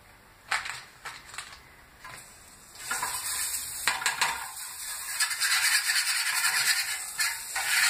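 Butter hitting a hot frying pan while oat hotcakes are being made, a few clinks of a spoon first, then a steady loud crackling sizzle that fills the rest, with no talk over it.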